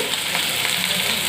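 Cumin seeds with finely chopped onion and garlic fry in hot oil in a pan for brisk Brinjal curry prep, a loud, dense sizzle with faint stirring, brief and continuous.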